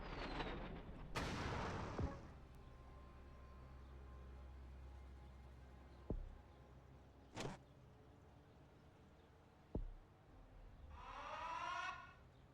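Airstrikes in the strategy video game Rebel Inc, heard as a few sharp, separated booms and whooshing blasts over a low rumble, with a rising siren-like warble near the end and no speech.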